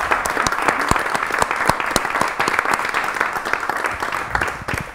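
Studio audience at a Canal Terrassa evening show in Terrassa breaks into steady applause, dense clapping sustained evenly throughout, close and loud with no voices over it.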